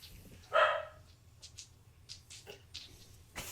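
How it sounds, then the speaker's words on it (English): A dog gives a single sharp bark at moderate distance in a quiet outdoor setting, with faint scattered sounds trailing after it. "a dog barks in the distance"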